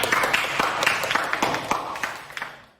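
A classroom of students claps for a classmate's answer, a short burst of scattered, uneven hand claps that thins out and fades over a few seconds.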